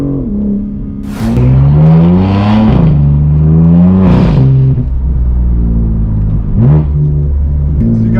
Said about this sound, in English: You can hear that transmission is just much more sharp.